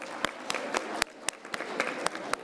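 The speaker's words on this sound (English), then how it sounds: "Can I get a round of applause for our coffee break sponsor again" Conference attendees at a healthcare event give a round of applause for a sponsor, moderate crowd clapping with a few louder, distinct claps standing out at a steady rhythm throughout.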